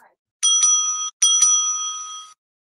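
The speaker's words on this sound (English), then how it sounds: "The timekeeper will ring the bell once to show the start of the preparation time" A timekeeper's handheld bell at a school English debate rings out twice in quick succession, each a bright, clear metallic ding with a sustained shimmering ring-off, loud and close in an otherwise quiet room.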